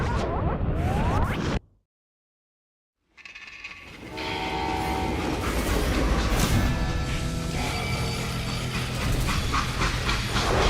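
A train in the Western game Call of Juarez: Gunslinger, loud and steady, with a brief silence near the start before a continuous rolling rumble with whistle-like tonal tones and hissing steam.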